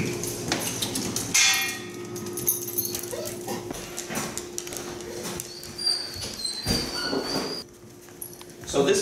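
A beagle whimpers and whines while coming out of a crate, the thin high cries repeating through a noisy indoor room with a steady background hum and occasional bumps.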